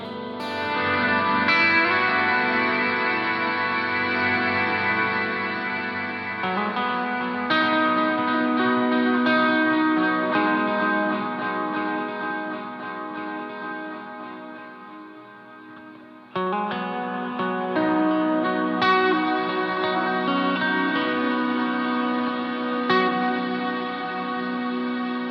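A guitar played through a Chase Bliss MOOD pedal with modify turned fully up gives sustained, heavily smeared reverb washes, with chords blurring into a continuous shimmering tone that swells and shifts over about twenty-five seconds.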